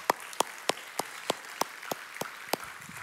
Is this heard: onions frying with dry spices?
no